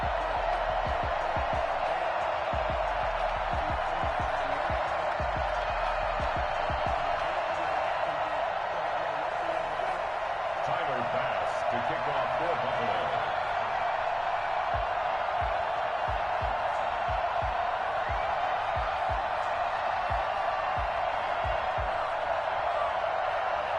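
A stadium crowd in an EA Sports NFL game, Buffalo Bills against Atlanta Falcons, holds a steady, broad roar with scattered whoops across the whole stretch, and faint speech occasionally rises within it.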